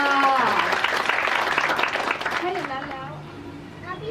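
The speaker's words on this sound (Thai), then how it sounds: "ปรบมือยินดีกับทางเจ้าบ่าวด้วยค่ะ" Guests at a Thai engagement ceremony applaud the groom, loud clapping that swells at first and then gradually thins out, with voices talking over it.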